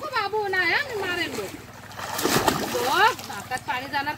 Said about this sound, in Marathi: मार हातान पाणी मम्मीच्या.